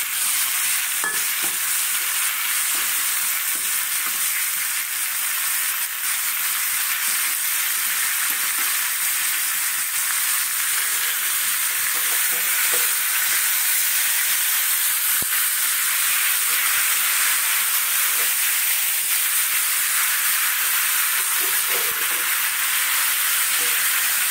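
Marinated meat sizzles steadily in a pan with lightly fried new potatoes and sliced onion, a continuous close hiss with occasional stirring scrapes and no talk.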